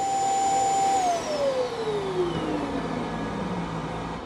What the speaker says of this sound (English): There's the brush roller you can hear being turned.